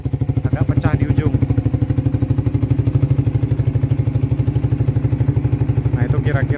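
Close and loud, a Suzuki GSX-R150 fitted with a locally made Satria FU exhaust idles with a steady, rapid pulsing throb and a tinny edge, while a voice speaks briefly over it at the start and end.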